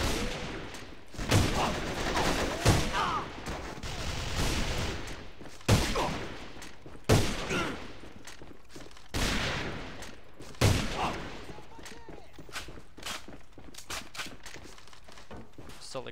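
Gunfire in the shooter game Alliance of Valiant Arms during a fast-scoping round, with loud, dense bursts of shots and sharp single reports repeating steadily over about sixteen seconds, one close after another.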